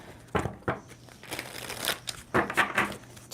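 A tarot card deck is shuffled close up, with papery crinkling and sharp riffling bursts that come in several quick clusters at an uneven rhythm.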